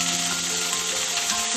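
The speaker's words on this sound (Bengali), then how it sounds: "এবার কড়াইতে আবার কেটে রাখা লাউ পাতাগুলো ছেড়ে দেবো।" Chopped gourd (lau) leaves go into hot oil left from frying prawns in a wok, giving a steady, loud, close sizzle that holds evenly throughout with no talking.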